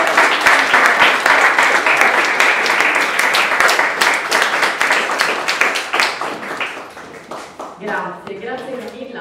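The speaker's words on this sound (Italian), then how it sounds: "accogliamola con un bel applauso" Audience applause at an Italian book presentation, sustained dense clapping from a seated crowd that thins toward the end as voices begin to emerge.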